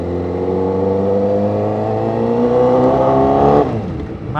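A 2012 Honda CBR 1000RR sport motorcycle with a 1000 cc engine revs steadily higher, its pitch climbing loud and close, then drops sharply off the throttle near the end.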